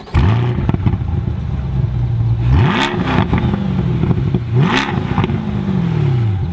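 A mid-engine Corvette's engine revs loudly and close, repeatedly, its deep stock exhaust note rising in pitch with each blip and then settling back to a rumbling idle.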